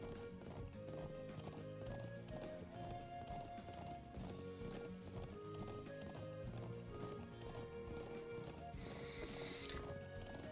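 Horse hooves clip-clop steadily through a video game scene about herding sheep back to a settlement, with a whinny, layered under constant game music and sound effects.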